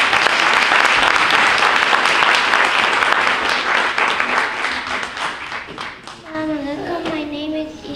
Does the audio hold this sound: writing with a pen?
no